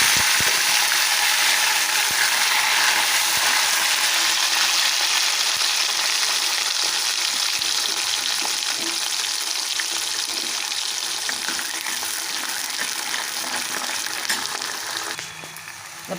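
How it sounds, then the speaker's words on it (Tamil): Onion and garlic frying loudly in a pan, a dense, continuous close-up sizzle that holds steady throughout and eases off slightly at the very end, with no talking. "இப்போது இந்த வெங்காயமும் பூண்டையும் போட்டு"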